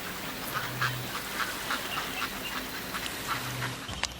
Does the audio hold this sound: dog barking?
no